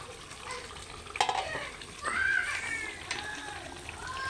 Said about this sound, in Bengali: তো হালকা নাড়া দিব